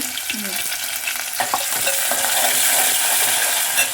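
Onion and green chilies frying in hot oil, a bright continuous sizzle with stirring clinks and scrapes, close and steady.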